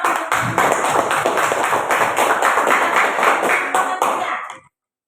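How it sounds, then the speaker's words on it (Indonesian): Students in a classroom clap for a presenting group, a loud, close burst of many hands with irregular thumps and taps that runs several seconds, then cuts off abruptly. "tepuk tangan untuk"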